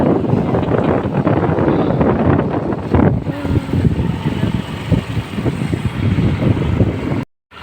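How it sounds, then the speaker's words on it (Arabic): A boat cruises on the Nile in Cairo, with steady broadband wind buffeting the microphone and a continuous low engine and water rumble that runs throughout before cutting out abruptly near the end. "مركب في النيل"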